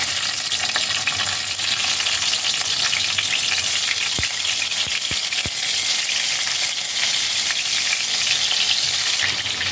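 Pointed gourds (potol) fry in two tablespoons of hot mustard oil on a gas stove, giving a loud, dense, unbroken sizzle with a few sharp clicks near the middle and no talk.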